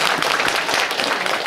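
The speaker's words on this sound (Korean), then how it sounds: "큰 박수로 환영드립니다." Audience at a local county community concert in Buyeo applauds to welcome the visiting press corps, a dense steady wash of clapping throughout.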